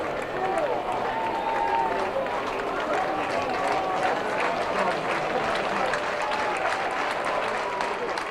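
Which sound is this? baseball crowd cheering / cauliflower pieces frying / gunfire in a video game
baseball crowd cheering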